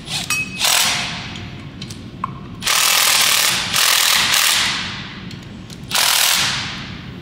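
A ratchet tightens bolts during an LS engine and 8HP transmission swap into a BMW Z3 M, heard as about four quick, rattling clicking bursts separated by short pauses in a quiet garage.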